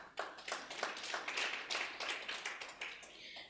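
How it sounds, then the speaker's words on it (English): Applause at a Women in Sport conference, distinct individual claps in a quick irregular rhythm from a modest group, fairly close and moderately loud, trailing off at the end. "please, a big applause for them and for ourselves."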